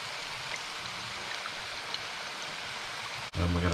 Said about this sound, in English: And we're going to stir that up.